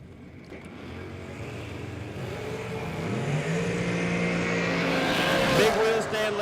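Drag race car launching hard down the left lane at a drag event, engine roaring and building steadily in loudness with a possible tire chirp near the end, an announcer talking over it.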